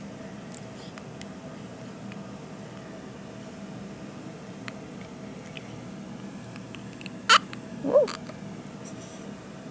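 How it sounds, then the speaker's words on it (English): Two small, quick hiccups sound close together near the end, faint against quiet room hum. "You got the hiccups."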